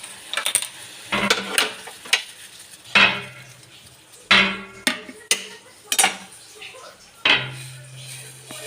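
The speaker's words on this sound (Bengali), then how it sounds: "এটাকে আমি ছেঁকে নিচ্ছি।" Bay leaf water is strained through a metal strainer in a kitchen, giving a close series of sharp metallic clinks and knocks at uneven intervals, each ringing briefly before fading.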